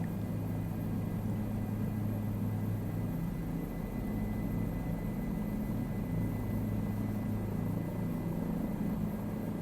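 A helicopter flying in Microsoft Flight Simulator, a steady loud rotor and turbine drone with a constant low rumble throughout, no talk over it.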